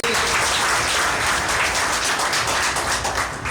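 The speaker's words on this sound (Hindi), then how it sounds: "तो मिश्रा जी के लिए एक बार जोरदार तालियां होनी चाहिए" Loud, sustained applause from a large audience at a company gathering, honoring R.K. Mishra, steady dense clapping filling the whole moment before tapering slightly at the end.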